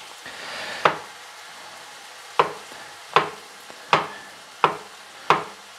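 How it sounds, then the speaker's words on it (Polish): Six sharp knife chops through button mushrooms, cut into thick pieces, land on a wooden board at uneven intervals, each a crisp thud with a short decay, close and fairly quiet. "Więc kroimy takie grubsze kawałki."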